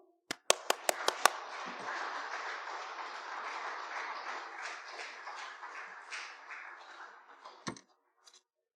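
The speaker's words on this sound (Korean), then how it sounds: "힘찬 격려 박수 부탁드리겠습니다" A church congregation at a devotional worship service claps in encouragement as a preacher comes forward, starting with a few sharp separate claps that swell into sustained, moderately distant group applause before tapering off.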